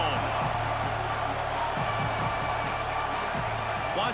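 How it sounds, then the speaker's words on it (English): Stadium crowd noise from EA Sports College Football 26, a steady roar of cheering and clapping filling the whole stretch with a few whoops rising out of it, while a commentator talks over it. "This crowd ready to make its presence known."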